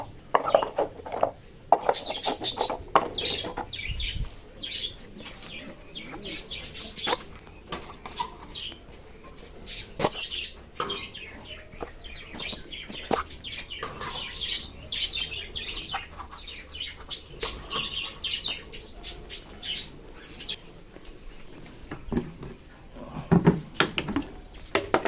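Pigeons coo and flutter softly while metal bowls and dishes clink and clatter at intervals as they are fed, a quiet, scattered feeding scene with no talking.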